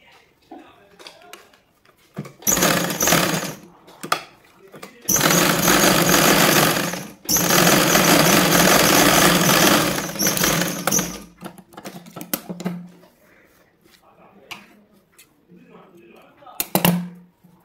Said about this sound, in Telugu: అలాగే ఇటు సైడ్ కూడా సేమ్ అదే విధంగా స్టిచ్చింగ్ అనేది వేసుకోవాలి.